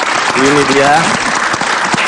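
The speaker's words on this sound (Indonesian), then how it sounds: "tepuk tangan dong" Audience clapping in a small gathering, loud and steady throughout, with a voice speaking briefly over it.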